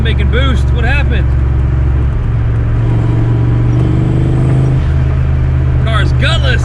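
A 1986 Mustang GT engine runs steadily with a deep, loud low rumble throughout, its tone rising briefly mid-clip as if revved, while a voice speaks over it near the start and end.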